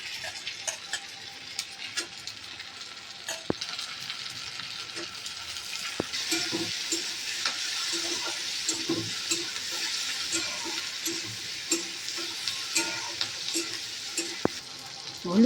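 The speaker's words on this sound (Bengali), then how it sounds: "ভাজা করা তেলের মধ্যে আমি একটু রসুন কুচি, আদা কুচি আর লঙ্কা কুচি দিয়ে দিলাম।" Chopped garlic, ginger, green chili, onions and bell peppers sizzle steadily in hot oil for chili chicken and fried rice, with a spatula clicking and stirring at intervals close by.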